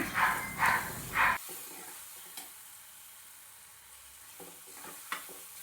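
Chitranna frying in a pan with carrot and coriander: three loud stirring sizzles with scraping in the first second and a half, then a faint low hiss with a couple of small clinks.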